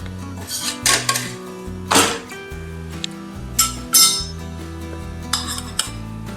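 An aloo palak paratha is flipped on a hot pan, with bursts of metallic clinks and scrapes from utensils against the pan over background music.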